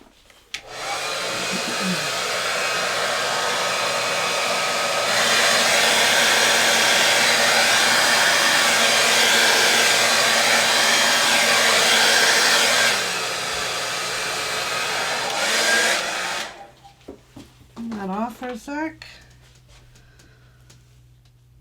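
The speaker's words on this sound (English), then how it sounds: "Now I'm going to take my hairdryer to this and blow it a little bit and make a little bit of noise." A hair dryer blows steadily on wet Arteza acrylic pouring paint, a loud, continuous close whoosh that runs for about sixteen seconds before switching off, followed by a few faint handling sounds.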